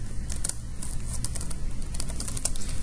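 Rapid clicking keystrokes on a computer keyboard as a note is typed, close and steady with irregular bursts of taps.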